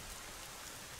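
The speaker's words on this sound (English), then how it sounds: "Hey, it's raining." Steady rain falling in the video game Atrio: The Dark Wild, a dense, even hiss of drops without pauses, soft and alone with no voices.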